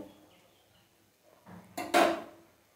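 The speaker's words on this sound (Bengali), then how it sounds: "একটু ঢেকে দেব" A lid goes onto a pan of egg curry with a couple of soft knocks, then a sharper metallic clatter and clink that rings briefly before fading, close and alone.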